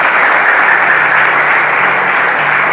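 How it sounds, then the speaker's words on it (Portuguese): Church congregation clapping in applause for Jesus after a prayer, a loud dense steady roar of many hands sustained throughout with no pauses, a faint low hum beneath. "Dá uma salva de palmas para Jesus"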